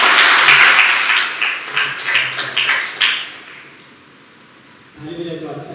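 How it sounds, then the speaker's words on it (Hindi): A church congregation claps together at a Hindi-language Resurrection Sunday service, a dense burst of applause fading out after about three seconds before a voice speaks. "क्यों ना परमेश्वर के लिए जोड़ा ताली बजा सकते हैं?"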